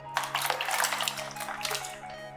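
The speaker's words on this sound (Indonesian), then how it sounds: "Jika perlu agar cepat dingin dan lebih kenyal, masukkan ke dalam secukupnya air es seperti ini." Flat meatballs shaped with a tablespoon drop into a bowl of ice water, giving a steady run of splashing and sloshing water, close and moderately loud with no voices.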